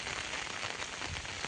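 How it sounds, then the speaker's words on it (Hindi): Heavy rain pours steadily onto flooded farm fields on a morning in Odisha, a dense, unbroken roar of close, loud hiss with no pauses. "सकाल 7 बजला न फिर भी पान बरसुचे।"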